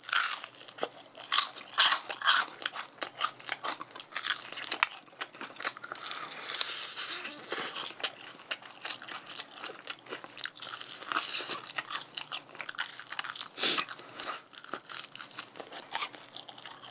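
Someone eating Pelicana half-and-half fried chicken, seasoned and plain, with close, crisp crunching bites and chewing arriving in irregular bursts, intermittent crackling between quieter pauses.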